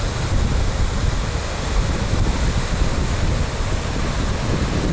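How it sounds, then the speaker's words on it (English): Waterfalls and river rapids in Glen Nevis gorge in the Scottish Highlands make a steady, dense roar of rushing water that fills the whole stretch without pause. "more waterfalls and rapids."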